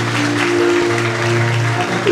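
A church congregation claps steadily through a brief burst of applause at a Baptist church anniversary service, with sustained musical tones droning beneath the clapping.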